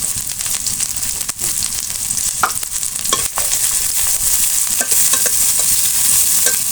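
Onion, garlic and sliced green chili fry in mustard oil in a hot karahi, giving a loud steady sizzle with occasional spatula scrapes and taps; no speech.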